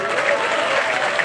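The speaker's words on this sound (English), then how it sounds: "Ladies and gentlemen, please a big round of applause for Lisa Pumai from Senapati," Spectators applauding at the Hornbill Naga wrestling championship, a brief burst of dense crowd clapping at steady volume with some crowd murmur beneath.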